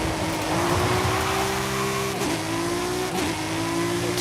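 Supercharged car engine in the Forza Horizon 5 racing game revving steadily, pitch climbing and dipping as it shifts gears, loud and close with no talk over it.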